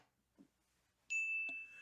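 A single bright bell ding rings out clearly and sustains with a steady ringing tone, following a faint quiet stretch, in a casual talk-show setting.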